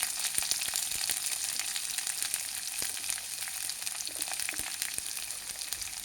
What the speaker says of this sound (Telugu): ఉల్లిపాయ వేసుకొని కొద్దిగా పచ్చి వాసన పోయేంత వరకు కొంచెం ఎర్రగా వేయించుకోవాలన్నమాట.